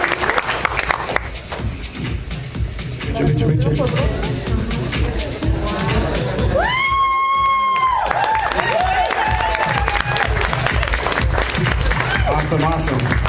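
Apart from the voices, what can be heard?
audience applause and cheering at training event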